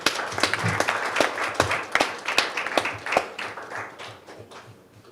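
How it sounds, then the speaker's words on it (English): Conference audience at an agricultural knowledge and digital inclusion event applauds, with sharp individual claps standing out against a steady, moderately loud patter that thins and fades toward the end. "let's give him a round of applause"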